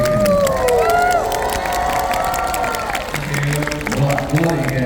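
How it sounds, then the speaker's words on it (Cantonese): Crowd noise with cheering and scattered clapping from an audience at a free busking performance, continuous throughout, with voices and shouts mixed in. "我哋再次亦都俾啲掌聲"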